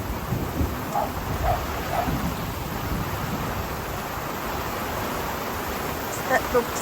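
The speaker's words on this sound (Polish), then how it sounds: "teraz ładnie pada" Steady heavy rain roars as a dense wash of noise on a camping awning, with occasional drips and spatters close by and a faint hint of storm wind throughout.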